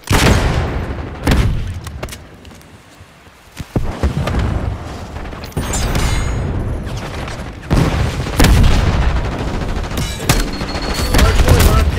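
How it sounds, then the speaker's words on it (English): Archangel launcher fire in a Call of Duty hardpoint match, a series of loud booming blasts and rapid gunfire bursts spread across the stretch, with a quiet lull in the middle before heavy explosive bursts resume. "Firing Archangel."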